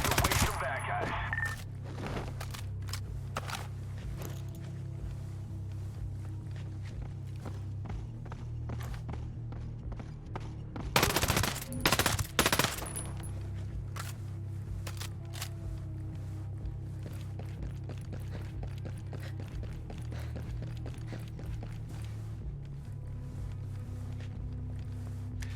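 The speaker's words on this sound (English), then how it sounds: "that was a mortar" Combat in Ghost Recon Breakpoint, with scattered gunshots over a low rumble and a loud cluster of sharp blasts midway that could be a mortar impact.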